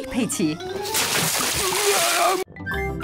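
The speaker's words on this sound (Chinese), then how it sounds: "把水倒在爸爸身上" In a Peppa Pig cartoon, water is poured onto Daddy Pig with a brief, loud splash. Cartoon voices talk before it, and the splash ends abruptly.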